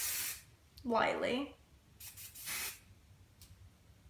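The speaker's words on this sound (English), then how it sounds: "take this Aussie hairspray, and it's the flexible hold, and I'm just going to take it and spray my hair" Two short hissing bursts of Aussie flexible-hold aerosol hairspray onto hair, close and fairly loud, with a rustling brush-like sound between them and a brief spoken word.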